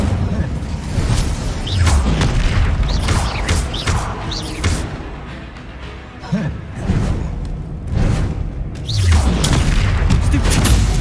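Fire spells cast during combat in Hogwarts Legacy, with loud booming bursts, whooshes and thuds following one another in rapid, repeated waves, the battle noise dense and nearly continuous.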